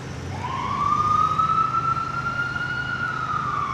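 An emergency vehicle siren on a street in lower Manhattan near the Brooklyn Bridge, one long steady wail that rises and holds, loud and close over low traffic rumble.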